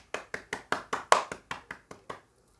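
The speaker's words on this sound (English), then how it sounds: "an applause for Dulcet." About ten sharp, evenly spaced hand claps from a single person, close and crisp, fading slightly toward the end with no talk.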